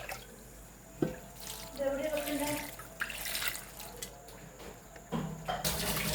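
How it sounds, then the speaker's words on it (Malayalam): Water pours into a cooking pot of jackfruit, bone meat and curry leaves, a soft splashing trickle that comes in short bursts with a brief thump, fairly quiet against the kitchen background. "നമുക്ക് കുറച്ച് വെള്ളം ഒഴിക്കാം."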